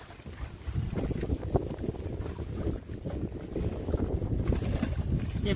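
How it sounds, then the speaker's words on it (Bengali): Wind gusts roar across a river in bad, rainy weather, a steady low rumble of buffeting on the microphone that swells and rises toward the end, with no talking. "ওয়েদার ভালো না, হাওয়া দিচ্ছে।"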